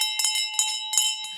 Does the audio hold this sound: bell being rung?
yes